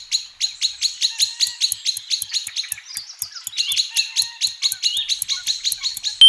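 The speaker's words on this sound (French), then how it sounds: "Vrai, cet oiseau est bien un merle noir" A female common blackbird sings a fast run of sharp, repeated high chirps in quick rhythm, pausing briefly midway before resuming, close and clear against silence.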